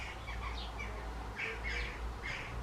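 A hungry baby bird squawks repeatedly in short raspy bursts as the parent feeds it, the calls coming a few times over a steady low background hum with no talking.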